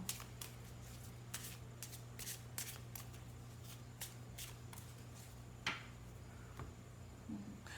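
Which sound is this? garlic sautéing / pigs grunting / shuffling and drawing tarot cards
shuffling and drawing tarot cards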